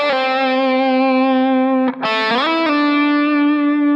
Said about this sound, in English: if we were to take just this pentatonic scale, it already has a much more vocal quality to it